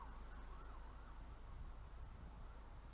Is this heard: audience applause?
no